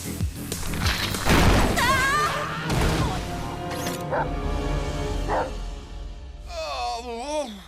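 Cartoon dog with a serious behaviour problem barking in sharp bursts amid crashes and booms, with yips and whimpers, loud and close, mixed with other animated sound effects.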